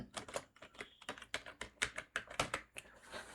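Typing on a computer keyboard while entering data into an Excel spreadsheet, a quick run of close, crisp key clicks in an uneven rhythm, heard alone.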